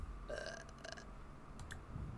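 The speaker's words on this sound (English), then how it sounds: "She can burp." A Sim character in The Sims video game gives a quiet, drawn-out burp. Faint clicks and a soft background hum sit beneath it, with no talking.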